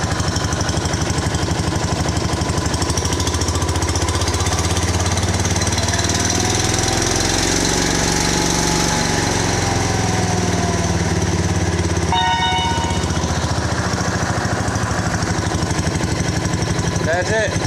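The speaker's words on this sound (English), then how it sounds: "It's a nice idle." An engine idles steadily, a constant loud mechanical drone with a low knocking pulse running the whole time, and a brief higher whine near the end.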